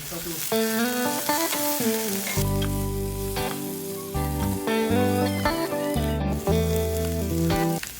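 Bitter gourd and tomato sautéing in a pan give a steady soft sizzle and occasional stirring, mostly buried beneath louder melodic background music playing throughout.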